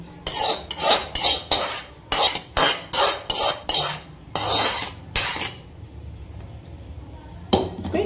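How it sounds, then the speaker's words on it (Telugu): The last of the rice for a paneer biryani is scooped into a pot: a quick, regular run of metal spoon scrapes and clanks against the vessel, then a pause and a few final knocks. "లాస్ట్ ఫైనల్ రైస్ని మొత్తం మనం ఇందులో వేసేసుకుందాం."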